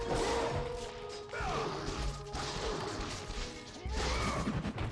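Enemies struck and sent spinning in the God of War game, near the Gates of Athens: a loud run of smashing, thudding hits with whooshes in a cramped hallway fight, continuous game-combat noise with no talk.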